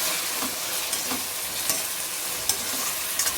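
Capsicum and tomatoes for pav bhaji cook in a pan, giving a dense, steady hiss of frying with a few soft knocks from stirring. No one speaks.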